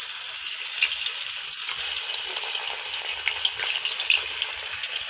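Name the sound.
fish frying in oil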